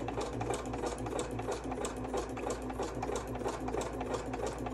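A sewing machine runs decorative stitches around fabric for a fabric masterboard, humming in one continuous rapid mechanical whir throughout, fairly close but at moderate level.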